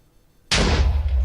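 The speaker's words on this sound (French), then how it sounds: "après ce que donne la TNT quand elle explose" After a brief quiet moment, a sudden loud blocky Minecraft TNT explosion bursts out with a deep rumbling tail.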